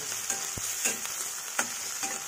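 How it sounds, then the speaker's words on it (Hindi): Chopped onions with green chillies fry in oil in a pan for rajma masala, giving a steady close hiss of sizzling with a few scraping stir strokes and no talk. "अब हम इसको फ्राई कर लेंगे प्याज को अच्छी तरह से,"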